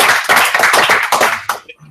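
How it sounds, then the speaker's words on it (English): Applause from a small group at a team standup meeting: a couple of seconds of brisk, uneven clapping, fairly close, then quickly tapering off. "we just want to give yourselves a round of applause again"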